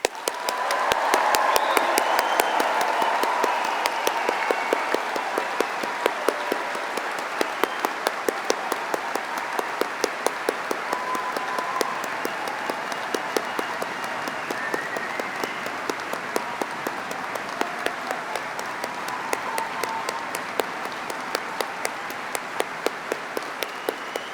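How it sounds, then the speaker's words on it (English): A large audience at a university science and technology graduation ceremony applauds award and prize recipients, producing sustained dense clapping that carries on steadily for over twenty seconds with individual claps standing out near the end. "please join us in giving all recipients of awards and prizes one final, rather large round of applause"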